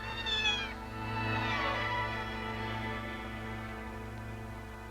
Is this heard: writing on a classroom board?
no